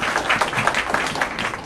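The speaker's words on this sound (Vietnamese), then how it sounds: "Xin một tràng pháo tay thật lớn cho bác sĩ Trần Việt Cường." Audience clapping for a doctor guest at a Vietnamese youth dialogue event, a short burst of dense, loud applause filling the room with no speech.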